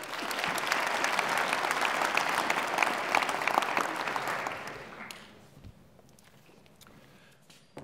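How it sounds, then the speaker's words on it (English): A university lecture audience gives a big round of applause, loud dense clapping for about five seconds that then breaks off into scattered claps and quiet room noise. "Give him a big round of applause."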